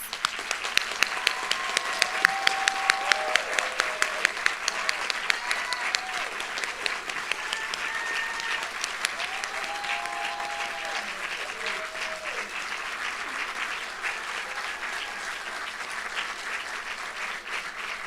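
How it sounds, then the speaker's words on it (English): Sustained audience applause for graduates at a winter university nursing doctorate graduation ceremony, a steady dense patter of many hands clapping throughout, loudest early on and holding fairly even to the end. "let's give our graduates one final round of applause"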